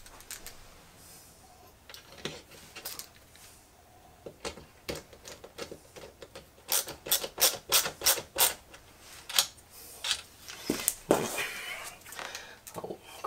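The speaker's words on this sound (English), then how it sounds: "Put these screws in it." Screws go into an Ikea Milsbo glass cabinet with a run of quick, close clicking and ratcheting ticks, sparse at first and then a dense burst of sharp clicks, mostly without talk.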